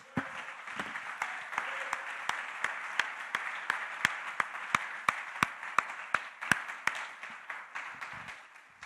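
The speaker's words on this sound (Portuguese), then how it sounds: "Eu posso ver um grande aplauso a Jesus?" Congregation applause at a church service, a moderate wash of clapping with a strong, regular rhythmic clap running steadily on top.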